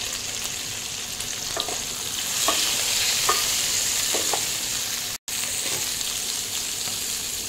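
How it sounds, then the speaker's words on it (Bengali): Cut beans and drumsticks fry in a pan for shukto, a steady sizzle running throughout with occasional stirring scrapes, close and fairly loud, no voices. "এবার এর মধ্যে কেটে রাখা বিন আর ডাঁটাগুলো দিয়ে দেব, দিয়ে আবারও কিছুক্ষণ ভেজে নেব।"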